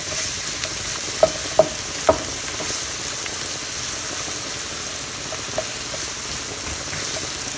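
Around 8 ounces of sliced mushrooms frying in a pan, a steady close sizzle with a few sharp utensil clicks and stirring knocks early on, no voices.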